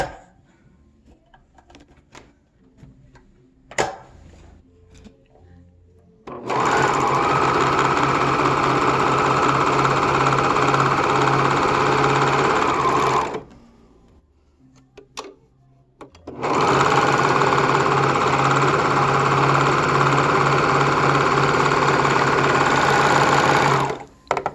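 A sewing machine hems thumbhole end pieces in two long, loud, steady runs of whirring stitching, separated and preceded by quiet handling clicks and pauses.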